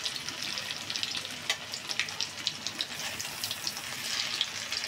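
Stuffed pumpkin pockets fry in oil, a continuous bright sizzle with scattered crackles and pops, close and moderately loud with no talk.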